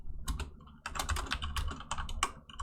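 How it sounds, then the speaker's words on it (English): Fingers type on a computer keyboard during a live stream, a dense rapid run of close clicking keystrokes with short pauses between bursts. "So I'm trying to do a live stream while typing at the same time."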